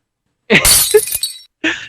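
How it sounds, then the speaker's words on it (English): A home security drone crashes into a window, and glass shatters loudly and close. A dense burst of breaking and tinkling is followed by a brief gap and a second short crash of glass. "I think it just crashed into one of the windows"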